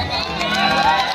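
A stage show audience claps and cheers loudly in a dense, continuous burst of crowd noise for about a second.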